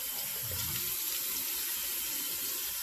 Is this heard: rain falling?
no